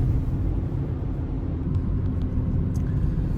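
A car cruises steadily along a multi-lane highway, a low continuous road-and-engine rumble heard from inside the cabin, with faint ticks over the top and no talk.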